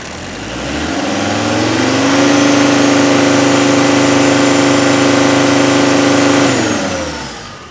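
An old diesel car engine revs up from idle into a steady, loud high-rpm drone, holds for several seconds, then drops back down, with no talking.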